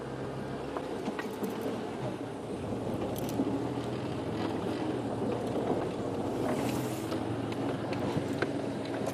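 A safari vehicle's engine runs in the Manyaleti bush at sunrise, a continuous low rumble mixed with wind noise that stays steady throughout.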